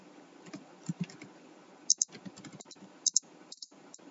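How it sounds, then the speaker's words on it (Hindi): Fingers typing on a computer keyboard to enter a search on Google Scholar, giving a few quick clusters of light key clicks with short pauses between bursts, close and fairly quiet, with no talking. "यहाँ से मैं टाइप करती हूँ"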